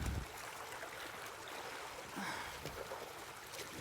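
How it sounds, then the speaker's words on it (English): Water is pumped through a folding sluice box, a steady, fairly faint rushing flow that runs evenly throughout. "And we're pumping some water here. That's running perfect right there."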